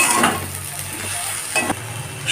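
Mixed vegetables sautéing in a pan with salt, sugar, turmeric, chili powder, cumin powder and a pinch of asafoetida, giving a steady close sizzle with scraping stir strokes and a few soft clinks of utensil against pan.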